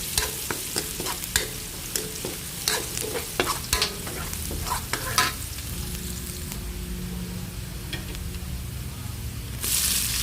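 Garlic and then onion frying in oil in a hot wok, crisp sizzling with repeated scraping stir strokes early on, then a steadier hiss, close and moderately quiet.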